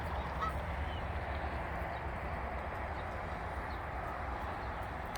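A group of ducks calls outdoors on a fine day, a dense, continuous chorus of honking quacks that runs steadily throughout with no one talking.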